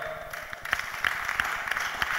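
A church audience at a Bible study applauds the panel: a moderate, fairly distant patter of clapping with a few sharper individual claps standing out, steady across the short stretch.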